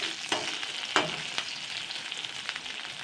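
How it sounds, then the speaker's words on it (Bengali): Rohu fish pieces frying in hot oil, a steady close sizzle broken by a few sharp clinks and scrapes of turning, with no talking. "এরকম কড়া করে লাল লাল করে কিন্তু ভেজে নিতে হবে।"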